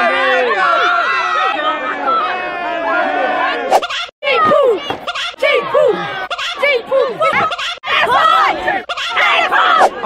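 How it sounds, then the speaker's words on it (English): A huge crowd of fans shouts and screams out on a city street, overlapping excited voices swelling and breaking off in bursts, loud and close around the listener. "A huge crowd of people."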